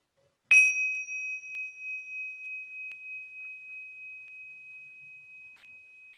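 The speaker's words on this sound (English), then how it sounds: "when you hear the bell, we can finish" A single meditation bell is struck once and rings out with a clear, pure tone, slowly fading over several seconds in a quiet room.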